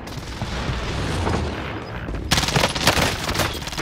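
Gunfire in Call of Duty: Modern Warfare starts as a dense rumbling fusillade, then turns into sharper, louder rapid bursts toward the end, with no voices.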